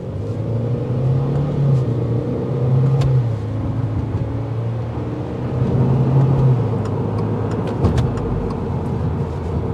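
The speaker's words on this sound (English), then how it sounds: "the exhaust note that you get when you're going slower really filters into the interior in the sense of sounding like bass." Exhaust note of a 2022 Subaru WRX heard from inside the cabin while driving slowly, a loud, deep bassy rumble with gentle swells as the engine note rises and falls, plus small clicks and bumps, no talk.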